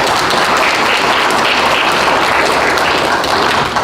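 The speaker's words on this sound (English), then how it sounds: "let's just take the opportunity to applaud our 2 veteran council" A council meeting audience in Selma applauds two veteran council members, a steady, dense wash of clapping that holds evenly for the whole stretch at fairly loud level.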